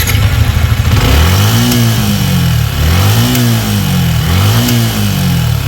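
A Suzuki Sniper 155 motorcycle engine revs up and down close by in repeated loud swells toward 7,000 RPM, with harsh popping and rattling under the steady engine roar and no talking.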